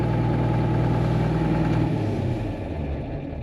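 Steady low rumble of a cold John Deere tractor engine idling close by in the morning, with a slight change in pitch near the middle and no voices.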